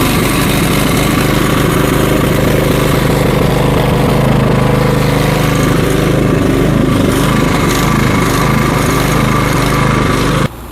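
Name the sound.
Cub Cadet snowblower engine starting and running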